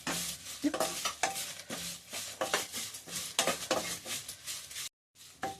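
Drumstick leaves fry in half a tablespoon of oil while a spatula stirs them, giving rhythmic scraping strokes over a steady close sizzle that cuts out briefly near the end.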